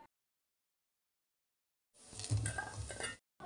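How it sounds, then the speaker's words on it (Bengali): Ash gourd pieces, squeezed of their juice, fry in a pan. After a long stretch of silence, a burst of stirring and sizzling lasts about a second, close and fairly quiet. "কুমড়োগুলো দিয়ে আমি ভালো করে একটু ভাজা ভাজা করে নেব"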